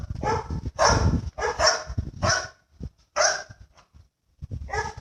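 A dog barks in several loud, close bursts with short gaps between them, the barks separated by brief pauses and some quieter yips, recorded outdoors with no voices over it.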